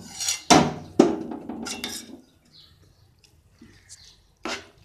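Cooked moong dal (split green gram) drops into a cooking pot with two sharp metallic clanks, followed by softer scraping and a faint clink, then a brief final knock, all close and without speech.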